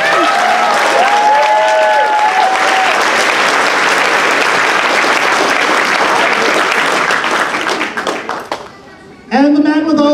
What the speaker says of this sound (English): Let's hear a big round of applause for Rachel Autumn Deering